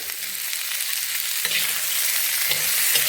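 Tomatoes and garlic sautéing in a pan over low gas heat, a steady close sizzle with faint spatula scrapes against the pan now and then, no speech.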